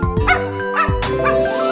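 A puppy in a Tamil children's rhyme gives several quick yipping barks in a bouncy rhythm, close and loud, mixed with whimpery tones.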